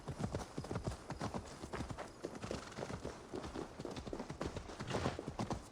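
Horse hooves clip-clop steadily in Assassin's Creed Valhalla, a rhythmic trotting beat that runs throughout at close range, with occasional faint whinny-like noise mixed in.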